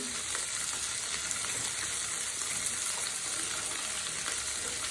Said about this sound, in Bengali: এই সব কটা ভালো করে ভেজে নেব।